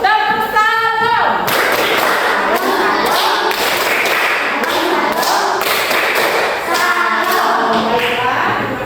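A classroom of students plays the tepuk salam clapping game in pairs, with loud, rapid, overlapping claps and slaps filling the room, and voices chanting together at the start and near the end.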